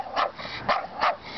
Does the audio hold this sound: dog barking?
yes